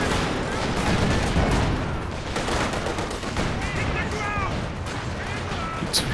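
A B4 howitzer barrage in Company of Heroes 2, with dense overlapping shell blasts and gunfire rumbling continuously as a commentator talks over the battle.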